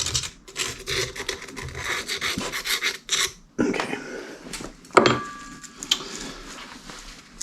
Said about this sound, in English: Probably want to wire brush this all down, clean all the mating surfaces.